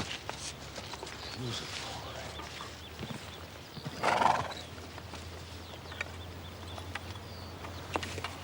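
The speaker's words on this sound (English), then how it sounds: "My horse is lame." A lame horse whinnies once in the middle, with faint hoof clops and outdoor ambience around it; a few other sounds in the background.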